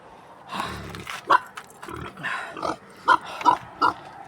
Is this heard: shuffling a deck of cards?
no